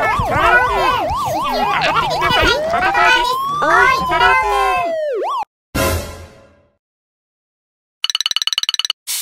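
A loud wailing police car siren sweeps up and down, then cuts off; a short burst of noise and a rapid electronic beeping follow.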